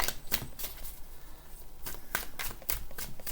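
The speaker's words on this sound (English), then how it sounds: "So I'm just going to pull a few cards here" A tarot deck shuffled and cards pulled for a monthly reading, with several sharp riffling bursts and card snaps at uneven intervals, close and fairly loud, with no talk.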